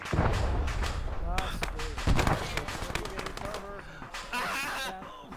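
A tank shell strikes in a Vietnam-era war video game amid booming explosions and crackling gunfire, with heavy low thuds under excited shouting players.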